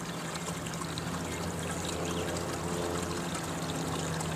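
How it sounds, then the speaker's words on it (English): Steady, fast water rushing through a gold concentrator sluice, a continuous broadband wash with no pauses, close and moderately loud, with no voices. "you're going to want to see the water's flowing much faster than on most of the recovery or small sluices"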